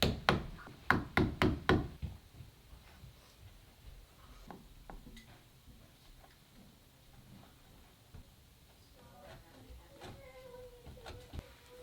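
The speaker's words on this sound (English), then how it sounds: "The latch was bigger than the old one, so I gotta chisel it out" Sharp chisel knocks cutting a recess for a door latch, a rapid burst of loud strikes early on, then scattered lighter taps and scraping with a person speaking quietly in between.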